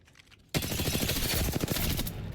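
Sustained automatic fire from the R-301 and R9 in the Apex Legends video game bursts in abruptly after a quiet start, a loud rapid stream of shots lasting nearly two seconds.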